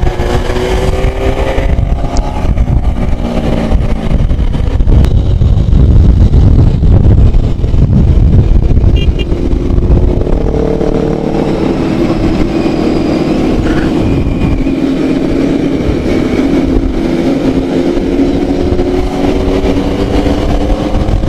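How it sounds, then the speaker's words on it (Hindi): Honda Fireblade superbike engine running loud and continuous at a Kolkata superbike riders' meet, with a steady low rumble and rising, shifting engine tones, no talk over it. "ये भाई अभी जस्ट नया ही बाइक खरीदा है, फायर ब्लेड।"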